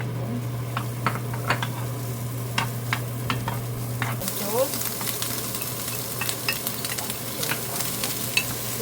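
Vegetables sizzle in oil in a pan, with a constant frying hiss, scattered clinks and scrapes of stirring, and a low steady hum beneath that changes partway through.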